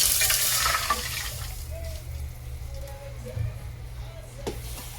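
Water is poured briefly at the start with a hissing splash while cooking Hainanese chicken rice, then fades into quiet kitchen background with a faint low hum.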